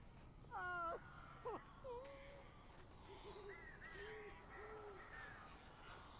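Birds calling in the Alan Wake video game: several short chirps and coos, fairly close, scattered over a steady ambient background with no talk.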